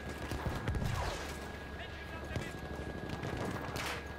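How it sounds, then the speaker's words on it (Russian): Gunfire crackles in Battlefield 1, with rapid machine-gun bursts and scattered shots at mid distance under a constant battlefield drone, and someone talks over the fighting. "С Б стреляют, не пойму откуда."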